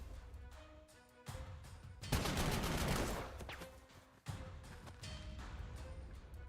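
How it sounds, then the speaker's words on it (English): Artillery bombardment in the game Panzer Corps 2, rumbling rolling barrages of shell blasts that swell loudly in the middle and fade, over a low ambient battlefield bed. "Alright, artillery bombardment."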